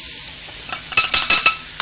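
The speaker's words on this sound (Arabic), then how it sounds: "ونقعد نحرك ونخدم هذيك الفرينه نطيبها" A spoon scrapes and clinks against a pot while flour is stirred into melted butter for lentil soup, giving a few quick close clinks and scrapes over a faint sizzle, with no talk.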